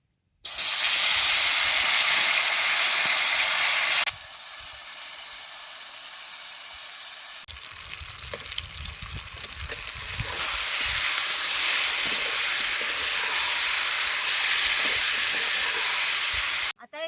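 Paneer frying in well-heated oil in a pan over a wood-fired clay stove, a loud continuous sizzle and hiss that shifts in intensity partway through, with no talking.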